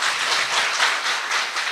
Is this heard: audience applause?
yes